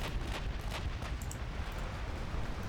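Heavy naval gunfire from battleships and cruisers in a dreadnought-era sea battle, a dense continuous roar of overlapping cannon blasts with sharper reports standing out, loud and without pauses.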